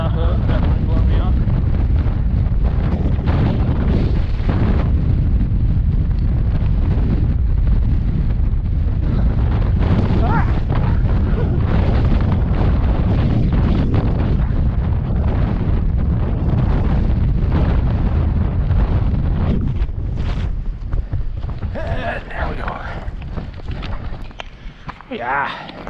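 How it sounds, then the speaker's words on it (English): Strong wind on a mountain top at Cedar Mountain, roaring and buffeting constantly against the microphone, loud and sustained, easing slightly near the end. "Man, whew, it is blowing like crazy."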